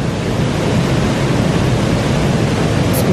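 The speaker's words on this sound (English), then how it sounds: "Rydal, the Grot and Waterfall." Loud, continuous roar of the waterfall at Rydal Grot in the Lake District, a dense unbroken rush of falling water heard close up with no other sounds.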